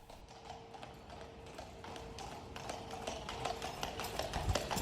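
A horse pulling a cart trots down a country lane, steady clip-clop hoofbeats in an even rhythm, growing slightly louder and nearer over a faint background hum.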